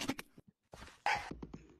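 A dog in a comedic meme makes a few short, close yips and whimpers in quick bursts, with brief silent gaps between them.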